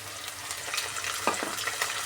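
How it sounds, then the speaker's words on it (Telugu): Mint leaves fry in oil for a ginger chutney, giving a steady bright sizzle with a few sharp scraping stirs of a spoon against the pan, close and fairly loud. "జస్ట్ ఒక రెండు నిమిషాలు ఫ్రై చేసుకుంటే సరిపోతుంది"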